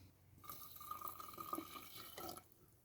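Vinegar is poured over crushed eggshells in a jar, giving a faint, close liquid pour that turns into a soft fizzing and bubbling for about two seconds, with no talk over it.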